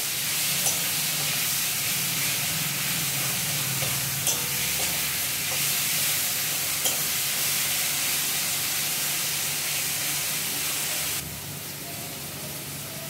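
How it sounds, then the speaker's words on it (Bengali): Shrimp and jackfruit bharta is stirred and mixed in a pan, making a steady, even sizzle and hiss throughout with occasional light scrapes of the spoon, growing slightly quieter near the end. "খুব ভালোভাবে মিশিয়ে নিচ্ছে নেড়ে নেড়ে।"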